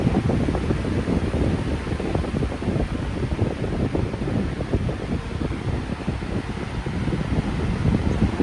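A red and black 20-inch drum fan at low speed runs in a steady low rumble and airy whoosh, with slight flutter in its roar, continuous and without speech.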